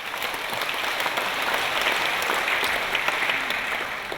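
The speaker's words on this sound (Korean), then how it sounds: "큰 박수 한번 부탁드리도록 하겠습니다" Church congregation applause, a dense, sustained round of clapping from a large crowd filling the space evenly for about four seconds, with no speech over it.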